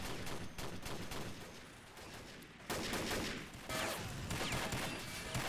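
A video game firefight in the Red Storm mod, a dense fusillade of rapid shots and bursts of automatic fire near and far, crackling continuously with a louder surge midway.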